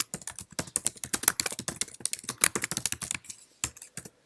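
Rapid, uneven keystrokes on a computer keyboard, close and crisp, with a brief pause before a final few taps.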